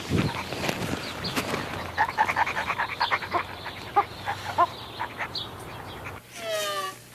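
A dog makes soft yips and whimpering sounds in a quick irregular series, close by, ending with a longer whine.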